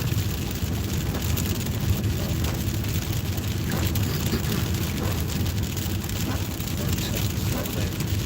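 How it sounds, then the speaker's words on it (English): Steady rain falls outdoors on a rainy Sunday afternoon in Oregon, a dense, even hiss of drops on surfaces that holds at a constant level throughout, with no voices. "It's a rainy day here."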